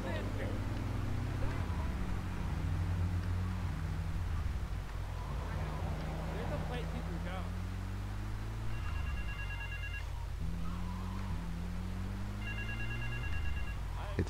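A mobile phone ringing in the video game GTA 3 The Definitive Edition, repeated electronic ring tones over a constant vehicle engine drone, with someone talking throughout.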